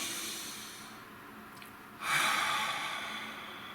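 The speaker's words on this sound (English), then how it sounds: "Nice deep breath." One deep breath taken close to the microphone: a quiet pause, then a single strong, airy inhale or exhale that slowly fades.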